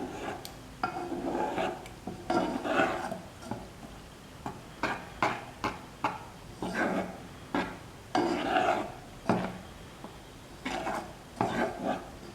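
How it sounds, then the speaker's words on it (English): Sweet bread batter mixed vigorously with a spoon in a bowl, with repeated clinks and taps of spoon on the bowl in irregular bursts, moderately close and fairly quiet. "you can use a beater or vigorously mix with a spoon"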